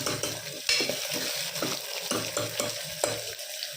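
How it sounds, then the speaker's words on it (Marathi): Onions fry over low heat in a pan, stirred until reddish, with a continuous sizzle broken by rhythmic spatula strokes scraping the pan. "कांदा लालसर होईपर्यंत परतून घ्यावे."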